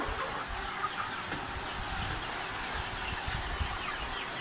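Water spray hissing steadily inside a poultry farm shed on a hot day, with chickens faintly clucking in the background.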